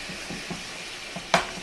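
Chopped meat seasoned with a Valley Greens blend sizzles in a pan as it is stirred. A soft continuous fry runs throughout, with light scrapes at intervals and one sharper clack of utensil on pan near the end.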